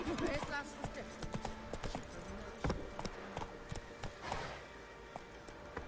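Hooves of Roach, Geralt's horse in The Witcher Wild Hunt, clop steadily at a gallop, close and fairly loud beneath a bed of game music and scattered speech.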